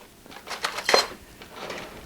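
A metal spoon clinks against dishes in a home kitchen while pasta with homemade ricotta is prepared, a few light, faint scattered taps with one brighter ring in the middle.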